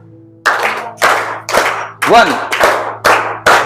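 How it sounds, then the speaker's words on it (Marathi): A class of students clap together in sharp, loud, unison strokes, about seven evenly spaced claps in a steady beat, with a brief spoken word partway through. "टाळ्या 3च्या बॅच मध्ये वाजल्या पाहिजे."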